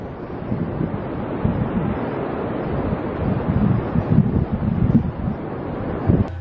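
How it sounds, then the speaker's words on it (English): Strong, steady wind roars and buffets the microphone at a sawmill after a windstorm, with gusts swelling louder near the middle and the end, and no talk. "45 to 55 mile per hour winds and gusts going up toward 80 miles per hour"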